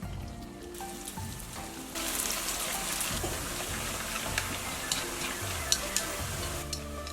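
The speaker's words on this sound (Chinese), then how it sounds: "中小火慢慢的炸，直到全部浮起来。" Pieces of dough deep-frying in oil at medium-low heat give a steady crackling sizzle of dense popping bubbles that thickens after the first two seconds, with faint background music beneath.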